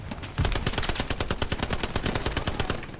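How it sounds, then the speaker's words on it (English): Rapid bursts of automatic gunfire in the World War II shooter game Hell Let Loose, loud, dense and continuous, with sharp reports overlapping in quick succession. "Can't even tell where the shots are coming from."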